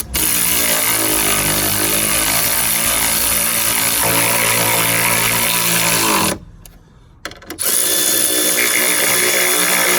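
Power tool running down the strut mount bolts on a 2004 Renault Laguna 1.9 diesel, a loud steady mechanical whir with a brief pause before it starts up again.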